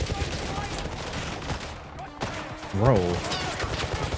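Rapid gunfire bursts from a video game trailer play under excited reaction chatter, with voices talking over the shooting throughout.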